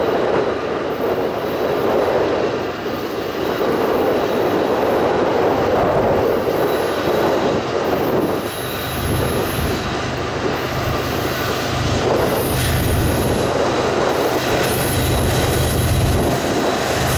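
Freight train rolling on the steep Otis Hill railroad grade in Indiana, a continuous heavy rumble of cars and wheels with intermittent squealing, loud and close, with deeper engine drone swelling partway through.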